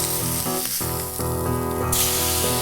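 Skirt steak sizzling steadily on a very hot grill, a continuous loud crackling hiss with a brief dip partway through, no voices over it.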